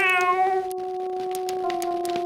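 A cat meows in a Star Trek: Judgment Rites computer game, one clear drawn-out tonal call up close followed by a steadier sustained mewing tone, with no talk over it.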